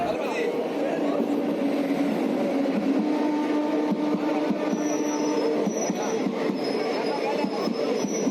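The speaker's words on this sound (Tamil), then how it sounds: "நம்ம வண்டி அரக்கோணம் ரயில் நிலையத்துக்கு வந்துருச்சு" The Saptagiri Express rolls into Arakkonam railway station with a steady rumble and high squealing of wheels on the rails, continuous and fairly close, with voices faintly under it.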